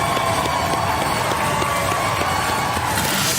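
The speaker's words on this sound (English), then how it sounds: "Ladies and gentlemen, can we have a round of applause for the Beast of Bodmin?" A studio audience on a robot combat show applauds and cheers for a competing robot, a loud, continuous roar of clapping and crowd noise that stays even in level from start to finish.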